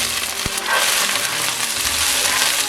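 Onion, curry leaves and green chillies fry in hot oil with a loud, steady sizzle that carries through the whole stretch. One low knock comes early on, and no voices are heard.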